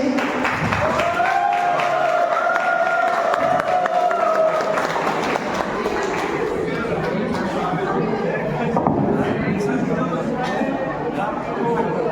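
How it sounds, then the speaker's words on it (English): A crowd applauds at a university Teacher's Day celebration, with steady clapping and murmuring chatter spread through a large hall, while a voice speaks over it near the start. "everybody please give a huge round of applause for our Dr. Prasad Chaudhary sir"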